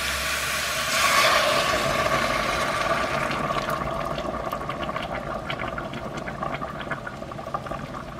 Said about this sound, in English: Now I'm gonna go ahead add the hot water to this.